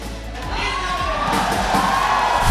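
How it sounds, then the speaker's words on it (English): A large crowd cheers and shouts loudly at a Mobile Legends MPL Malaysia esports playoff event, a dense sustained roar of voices with whoops across the whole moment. "Oh, I hear the cheering."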